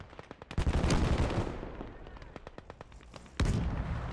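Gunfire in a 1v1 PvP match of Gates of Hell includes sharp single shots, then a burst of rapid cracks and a heavy blast, some near and some distant, with low rumbling between volleys.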